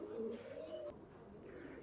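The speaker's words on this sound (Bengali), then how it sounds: "তো দেখেন সেই অরিজিনাল পাকিস্তানি নীলাকামাগার কবুতর" Pakistani Nila Kamagar pigeons cooing softly nearby, a low throaty warble in a couple of short phrases over quiet background.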